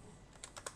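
A few quick keyboard keystrokes tapped on a computer while setting up a FLSUN Q5 delta 3D printer, four soft clicks spaced across the end of a short, quiet moment with no talking.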